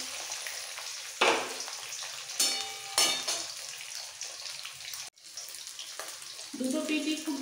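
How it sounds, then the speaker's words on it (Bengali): Bhetki fish pieces frying in oil for a curry with cauliflower and potato, a loud close sizzle with sharp bursts as pieces hit or are turned, a brief gap, then steady frying again. "দুবারে মাছগুলো ভেজে নেবো, একেবারে হবে না"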